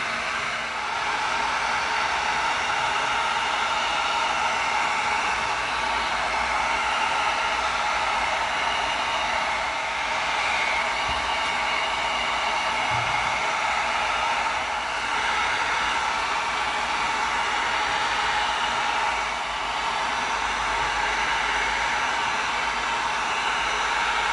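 Heat gun blowing hot air over raw EVA foam, a loud, steady roar of the blower that runs unbroken for the whole stretch with no talking.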